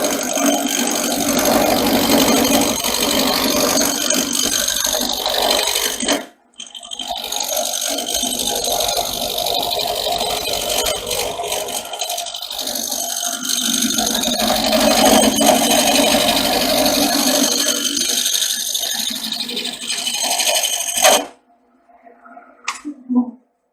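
A wood lathe spins a spindle blank while a turning tool cuts shavings, making a steady rattling hum with scraping texture that briefly dips, carries on, then stops near the end.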